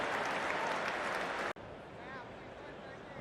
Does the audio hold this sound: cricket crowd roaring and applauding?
yes